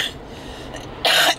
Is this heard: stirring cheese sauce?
no